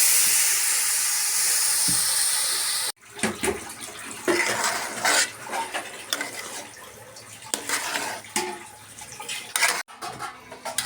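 Water pours with a hissing rush into a pot of pulao on the stove, followed by bubbling, steam hiss and the clatter of a metal pot and utensils, close and fairly loud with no talking.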